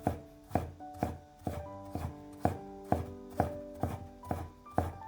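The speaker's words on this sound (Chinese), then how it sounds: "再改刀切成细丝" Knife on a cutting board shredding ginger into fine strips, steady evenly spaced chops with woody ringing knocks, close and clear with no talk.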